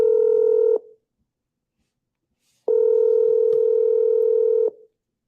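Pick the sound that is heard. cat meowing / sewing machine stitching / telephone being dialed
telephone being dialed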